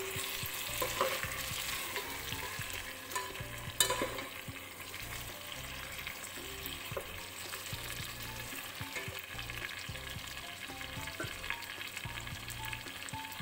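Chicken sukkha fries in a pan after being turned, giving a steady close sizzle and crackle with occasional stirring scrapes and no talk.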